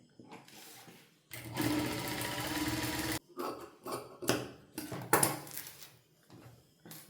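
A sewing machine stitching a fabric strip with a border onto the front of a garment, running in one long continuous burst, then in several short stop-start bursts, close and clear.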